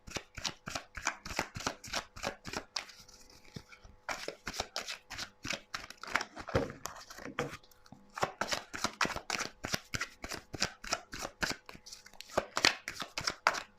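Tarot cards being shuffled for a reading make close, rapid riffling flutters in bursts, with short pauses between rounds and no clear talking.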